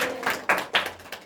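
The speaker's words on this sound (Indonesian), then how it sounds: "Tepuk tangan untuk Mbak Ira" A short round of classroom clapping for a student, a few uneven bursts of hand claps from a small group, close and fairly loud.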